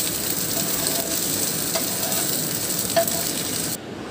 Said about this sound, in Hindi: इसी तरह आपको गोल्डन ब्राउन करना है फिश को, फ्राई कर लेना है।